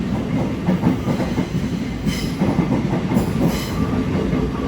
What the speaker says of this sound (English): It's now coming in, it's the 10:11 Thameslink service from